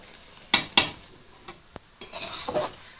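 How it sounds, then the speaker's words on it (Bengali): A spoon stirs bottle gourd curry masala frying in a pan: a few sharp scrapes and knocks near the start, then lighter taps and a softer sizzle-and-scrape passage, close and clear with no voices. "আমি আরও 2 থেকে 3 মিনিটের মতো ভালোভাবে নাড়াচাড়া করে একটু মশলাটা আরও কষিয়ে নেব।"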